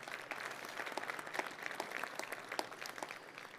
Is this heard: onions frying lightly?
no